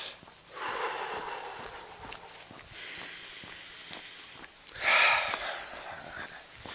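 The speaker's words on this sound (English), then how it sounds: "I'm going to make sure I breathe in with my nose" Deep breaths drawn in through the nose, several audible snorting inhales at an even pace, close and fairly loud, the strongest near the end, with no talking.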